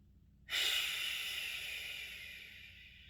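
During a guided meditation, one long, deep breath starts suddenly after silence as a loud, airy, close hiss, then slowly fades over several seconds with no talking.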